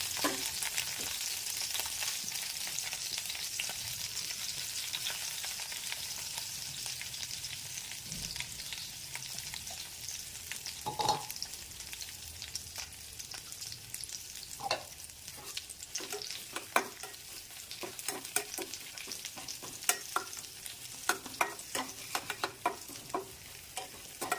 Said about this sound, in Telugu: ఆయిల్ పక్కకు వచ్చేసింది కదా ఇందులోనే మనం మసాలా ఫ్రై చేస్తాం